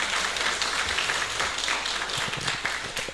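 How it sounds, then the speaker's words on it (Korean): A congregation claps steadily throughout a Korean church Thanksgiving worship service, a dense, sustained wash of applause filling the room at an even level with no voices over it. "큰 박수 한번 해주시기를 바랍니다"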